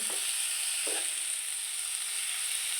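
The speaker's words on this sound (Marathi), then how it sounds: "ब्रोकोली टाकून घ्यायची आहे व हे मसाल्यामध्ये मिक्स करून घ्यायचे आहे" Broccoli being stirred into frying masala in a pan gives a steady, loud, close sizzle, with a couple of soft utensil scrapes near the start.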